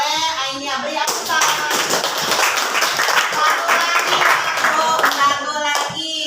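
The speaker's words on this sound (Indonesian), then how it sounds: "Beri aplaus." Students in a high school classroom clap as a group, a dense run of close hand claps that swells quickly and fades out after several seconds.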